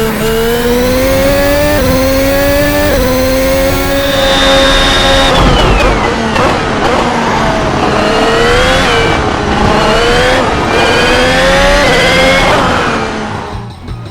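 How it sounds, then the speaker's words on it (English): A modded racing video game recreates a 2019–2020 Formula 1 car engine, which screams loudly at high revs. Rising gear-shift sweeps climb and drop again and again as the car accelerates, ending with a brief fade. "the 2019 and 2020 cars also sounded absolutely amazing, and these mods recreate the sounds pretty accurately."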